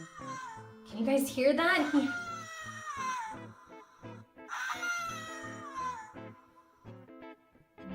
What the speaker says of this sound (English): can you imagine getting like an action figure that straight up howls?